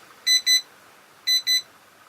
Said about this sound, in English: it's going to beep at us every time it goes over range